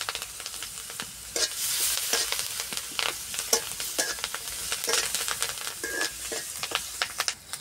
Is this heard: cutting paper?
no